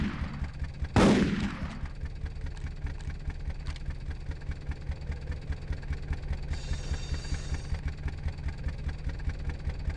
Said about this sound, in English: Step right up to the Siberian Sideshow shooting gallery.